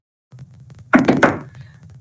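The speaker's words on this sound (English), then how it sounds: "The knock on the door came at 2 p.m." Several sharp knocks strike a door in a quick cluster, loud and close, followed by a short ringing tail over a quiet low room hum.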